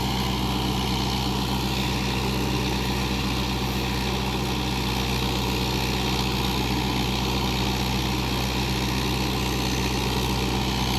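A tractor engine drones steadily while driving a 7-foot rotavator through a field, a loud, constant low mechanical hum with no breaks and no voices over it.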